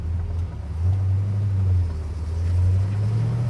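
A 1969 Pontiac GTO with a 400 cubic inch V8 and four-speed manual drives on a hot day in Michigan, its deep engine rumble holding steady with mild swells in revs, heard from inside the car.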